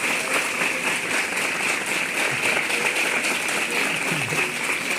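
Audience applause for India's Got Talent Season 10 winner Paras Yadav, a loud continuous wash of crowd clapping that holds steady throughout.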